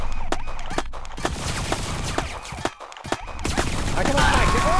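Rapid bursts of video game gunfire ring out in They Came From The Skies 2 on Xbox Series X, loud and busy over in-game noise, with shifting electronic tones near the end.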